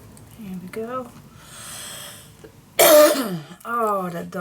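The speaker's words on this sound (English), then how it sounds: "Oh, that darn cough." A person clears their throat and coughs in a couple of rough bursts, with a few brief vocal sounds in between, close and fairly loud.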